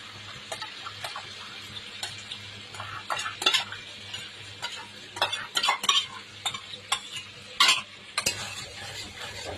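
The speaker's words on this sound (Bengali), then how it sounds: "দইটা দিয়ে একটু নাড়াচাড়া করা হবে, তারপরে জল দেওয়া হবে" A spoon stirs yogurt into fried spice paste in a pan for doi katla fish curry, with repeated scraping and clinking strokes over a low, steady sizzle, close and alone.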